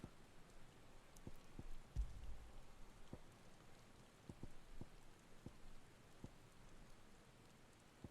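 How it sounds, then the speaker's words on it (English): Rain falling in the video game Final Fantasy XVI, a faint, steady patter of drops with a few scattered louder taps and one low rumble early on. "Rain? I can't control rainwater."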